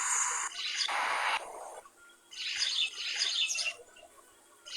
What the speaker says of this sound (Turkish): Aa, yine her yerde kuş sesleri.